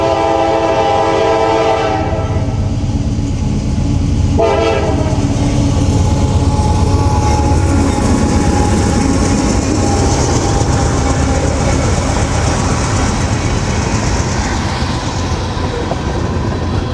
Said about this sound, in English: CSX 270 is leading the train today.